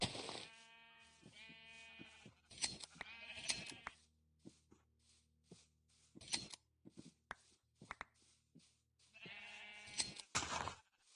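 Sheep in the Minecraft video game bleat repeatedly, several short nasal calls in irregular bursts separated by quiet stretches, with faint clicks and a low steady game hum underneath.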